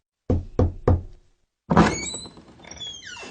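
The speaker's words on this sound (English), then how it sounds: "Mrs. Crane knocks at the door" Three sharp knocks on a door in quick even succession, fairly close, then a brief pause before a clattery rush of noise with high squeaky tones follows.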